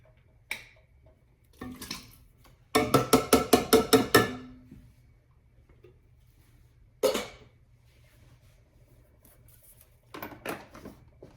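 Four cans of diced tomatoes being emptied into a pot of onions: a quick rapid run of clanking metallic knocks, then scattered single clinks and thuds with quiet gaps between them.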